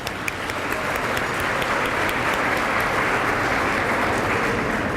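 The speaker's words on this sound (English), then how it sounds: "So I want to give them in absentia a round of applause." Steady, dense applause from a reunion luncheon crowd, sustained and even throughout with no talking, a full roomful of hands clapping at moderate loudness.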